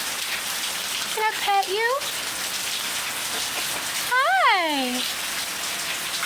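Continuous patter of rain falling near a cockatoo, a steady hiss throughout, with a voice speaking softly and two bursts of squawking from the bird over it.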